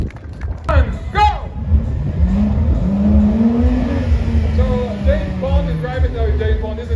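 A 630 bhp Aston Martin GT race car accelerating hard at Brands Hatch in a GT World Challenge Europe race, its engine note sweeping upward and holding loud and close beneath continuous commentary.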